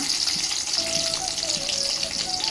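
Long-sliced onions fry in hot oil with a steady, close, bright sizzling hiss that carries through the clip, alongside a faint tonal whine.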